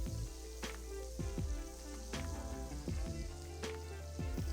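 Bacon frying in its rendered fat until crisp for a Guinness stew, a low steady sizzle punctuated by soft repeated scrapes and pops from the pan, close and quiet with no talking.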